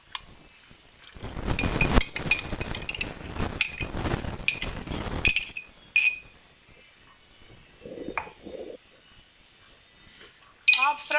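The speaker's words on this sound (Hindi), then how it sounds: "अब शामिल करेंगे ईस्ट। इसको अच्छी तरह से हिला लेंगे।" Metal spoon clinking against a glass while yeast is stirred into fresh milk for potato naan dough, a run of bright rapid taps for a few seconds, then scattered single clinks, with someone speaking in between.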